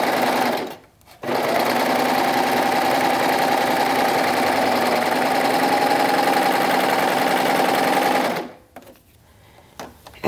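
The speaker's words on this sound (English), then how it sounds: "it's cut the fabric and bind the edges and stitched right along the cording" A serger sewing machine trims fabric and binds the edges as it stitches along cording, running as a steady, loud mechanical whir for about seven seconds, with brief stops near the start and at the end.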